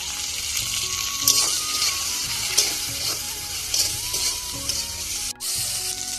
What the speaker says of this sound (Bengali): দিয়ে বেগুনগুলো লাল করে ভেজে নেব